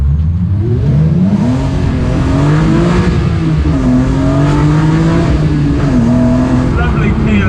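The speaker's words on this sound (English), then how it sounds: "Lovely peel out." A Jagermeister-liveried BMW E36 M3 road and race car peels out, its engine roaring loud and close as the revs rise and fall in sweeping surges through the gears.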